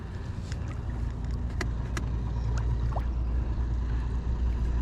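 A rebuilt trolling motor runs underwater, pushing a fishing boat. It makes a quiet, steady churning hum with bubbling water and a few faint clicks, with no talk.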